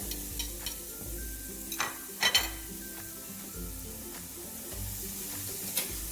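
Onions sautéing in a pan for corned beef hash give a soft, steady sizzle, with a few sharp clinks of a utensil against the pan and occasional stirring scrapes.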